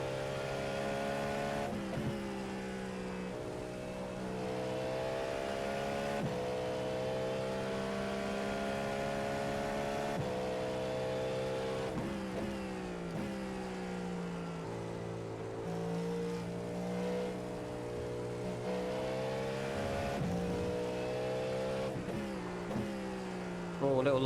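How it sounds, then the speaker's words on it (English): A race car engine in the iRacing sim revs steadily and loudly throughout, a grunting low-rev tone climbing into a sustained singing whine, with repeated rises and drops as it shifts and brakes. "It's like 2 different engine sounds in one. On the low revs, it's like grunting, and as you get in the revs,"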